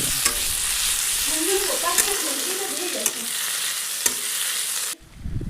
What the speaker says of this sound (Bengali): এটিকেও কিছুক্ষণের জন্য ভেজে নেওয়া ভালো করে যাতে টমেটোকে গলে যায়